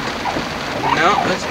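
Steady rain hisses down at night, heard from inside a vehicle; someone talks over it the whole time.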